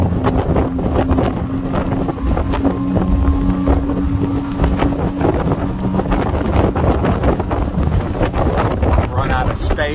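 Twin outboard engines, 700 horsepower, on a Premier 270 SS pontoon boat roar at full throttle near 50 mph under heavy wind buffeting and rushing water, a loud continuous drone with bumps as the hull slaps.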